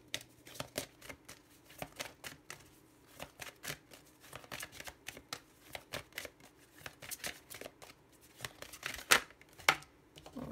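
Tarot cards shuffled by hand in a room, a steady run of quick crisp riffles and soft slaps that grows louder toward the end, with a few sharp flicks as cards fly loose.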